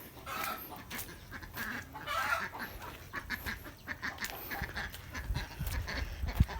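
Ducks belonging to a neighbour call near a pen, with several quacks and honks rising over a faint background of rustling and movement, fairly distant and without talk.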